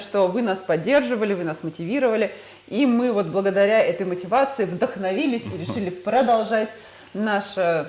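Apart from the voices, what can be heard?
None of the usual background noises is heard.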